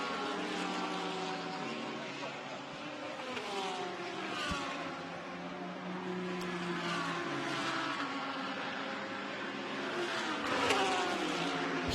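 GT race cars circle Fuji Speedway during a Blancpain GT Series Asia race, a Honda NSX running with Audis, their engines a steady droning roar with shifting pitch and revs over about twelve seconds, no commentary audible.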